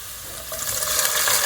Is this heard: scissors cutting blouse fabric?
no